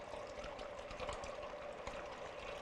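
A thin, steady stream of heavy cream trickles into a pot in a home kitchen, a soft continuous pouring sound with no talking.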